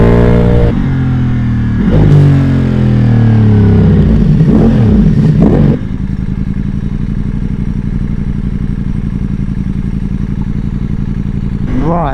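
A Ducati Multistrada V4 Pikes Peak with an Akrapovic full exhaust and dry clutch revs hard and close, its engine climbing and falling in loud sweeps before settling into a steady, rattly idle.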